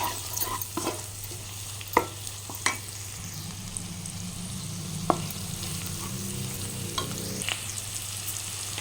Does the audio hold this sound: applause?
no